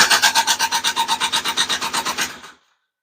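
Honda Odyssey FL350 with a Lectron carburetor and choke on, its starter cranking the engine in a fast, even rasping chug for about two and a half seconds before stopping abruptly.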